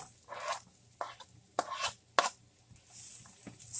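Cut garlic tossed into sizzling butter in a pan while cooking garlic butter shrimp, a few sharp crackling bursts and scrapes over a quiet sizzle.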